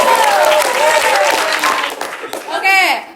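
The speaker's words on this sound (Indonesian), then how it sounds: "Tepuk tangan, sih." Applause from a small audience at a student event, the clapping mixed under a voice and cheering that dominate, with a brief burst of whooping near the end.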